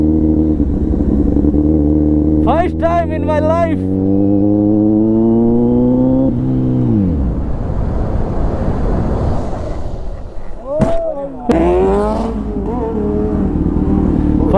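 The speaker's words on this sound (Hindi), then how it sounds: "first time stoppie on my super bike" A Bajaj Pulsar RS200 motorcycle revs loudly and close during a stoppie, its engine climbing in pitch, then dropping back to a rough idle with more short revs as someone speaks briefly.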